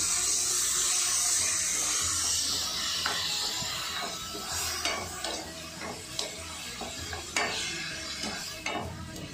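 Tomatoes and spinach are mixed in a hot pan for Rajasthani dal dhokli, giving a continuous close sizzle broken by repeated spoon scrapes and stirring knocks, with no speech.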